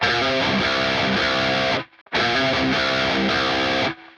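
Heavily distorted electric guitar plays a chugging riff on a low string, in two loud repeated phrases separated by a brief gap.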